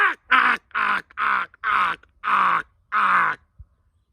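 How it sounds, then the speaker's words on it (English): A flock of crows bursts from a tree line, giving seven loud, harsh caws in a steady rhythm close by, followed by silence. "there were a flock of crows that just burst out of that tree line over there"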